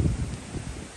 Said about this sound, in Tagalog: Tingnan nyo, lakas ng hangin, no?